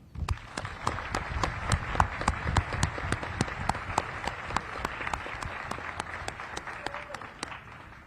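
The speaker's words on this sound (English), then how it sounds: "join me in a round of applause for Lori and Leanne" At a US Army change-of-command ceremony, the audience applauds two honorees, with dense steady clapping and a few sharp individual claps standing out, thinning slightly toward the end.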